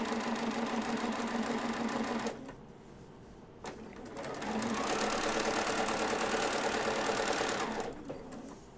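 A sewing machine stitching quilt fabric runs in two steady bursts of rapid even clatter separated by a short pause, close and alone with no talk.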